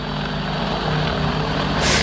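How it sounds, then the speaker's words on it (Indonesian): Mi-24 military attack helicopter flying, a steady loud rotor and engine drone that fills the whole stretch without a break, with no speech over it. "Ah, ini yang Mi 24 yang tadi helikopter Avenger guys ya."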